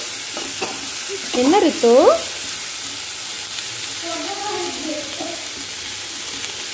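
Mushrooms sautéing in oil in a pan give a steady, fairly loud sizzle, with a couple of short bursts of speech over it.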